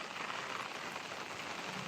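Light rain falls steadily on surfaces in Konkan, a soft, even patter of drops that stays faint and continuous with no voices.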